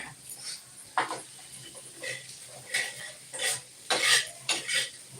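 Grated coconut being stirred into fried onions in a pan while cooking egg curry, with a scatter of scraping spoon strokes and soft clatter against the pan, close and moderately loud.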